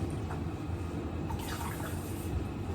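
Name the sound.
water poured into pan of sauteed sardines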